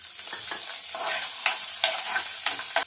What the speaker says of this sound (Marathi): हे भाजून घेऊया थोडंसं तेल टाकायचं